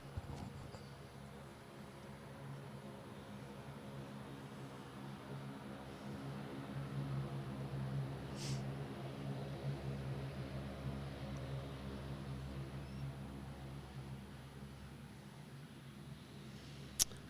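A Rex airliner departs Adelaide Airport for Port Lincoln, heard as a steady, fairly faint low engine rumble with broadband hiss that swells slightly midway and stays distant and even throughout.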